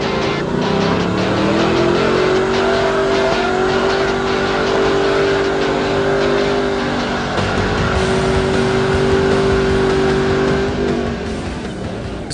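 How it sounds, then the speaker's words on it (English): A Ford Mustang does burnouts on Las Vegas Boulevard, its engine held at a steady high roar with tire noise, loud and close for the whole stretch, dipping briefly before surging again. "Definitely not too bad of a thing to be doing burnouts in the middle of Las Vegas Boulevard."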